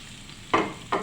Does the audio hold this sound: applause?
no